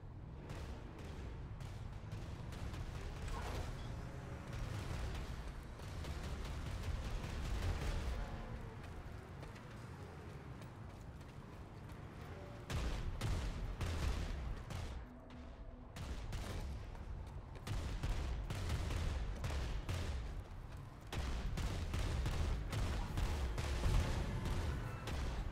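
Sustained gunfire and explosions in the online shooter PlanetSide 2, with dense overlapping shots and booms continuing loudly through the whole stretch, no voices.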